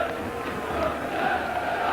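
Big fourth-division football crowd at Hull City's ground, a dense, steady roar of applause and cheering that fills the whole stretch, distant and continuous without breaks.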